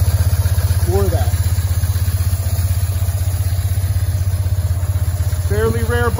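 A 2005 BMW Boxer Cup Replica motorcycle idles with a steady, even low thrum and close pulsing throb throughout, while someone talks briefly over it.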